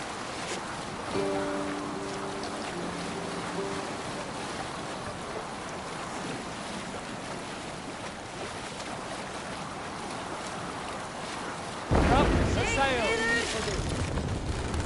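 A Viking longship sails across open water in Assassin's Creed Valhalla, with a steady wash of waves and wind, soft and continuous; a voice speaks near the end over the water.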